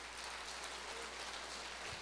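A church congregation at a Christian conference claps together in a steady, dense wash of applause that fills the whole moment, soft and somewhat distant.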